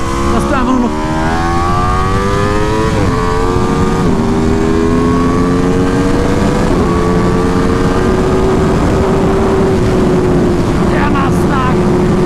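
A 2020 Aprilia RS V4 1100 Factory motorcycle screams around the Red Bull Ring at high speed, loud V4 engine notes climbing through gears with sharp shifts, under heavy wind rush.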